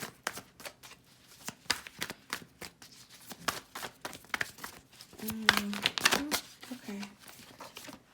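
Tarot cards are shuffled and drawn, a quick run of crisp flicks and riffles with papery rustling, fairly close, while a voice speaks briefly under the card noise.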